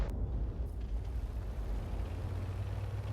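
A tank gun, fired from a GW Panther self-propelled artillery piece in World of Tanks, lets off a sharp boom right at the start, followed by a steady low rumble of engine and battle ambience.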